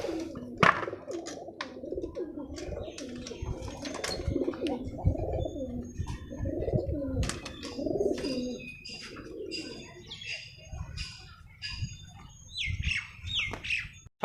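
Pigeons coo repeatedly in low, rolling phrases, overlapping one another nearby, with scattered wing flutters and higher chirps mixed in.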